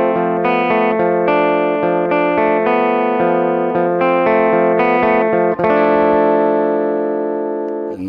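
Electric guitar played through a compression pedal set to its fastest attack, a fast run of sustained, evenly squashed notes ringing loud and continuous, with a brief break near the end before a held chord.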